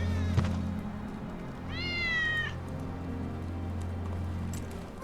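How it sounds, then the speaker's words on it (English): A single clear meow from Wedge's cat in Final Fantasy VII Remake rises over a constant low game hum, preceded by a faint thud. "That's Wedge's cat."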